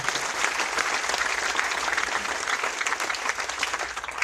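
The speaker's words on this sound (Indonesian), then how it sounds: "Tepuk tangan bagi Tuhan." A church congregation claps steadily and densely for several seconds, a full, sustained round of applause with no voices standing out.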